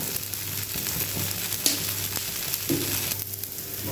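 Rava dosa batter and a ring of oil sizzle steadily on a hot pan, a continuous close crackling hiss with a low hum beneath and a few small clatters, no voices.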